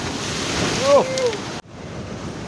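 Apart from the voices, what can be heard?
ocean waves breaking in surf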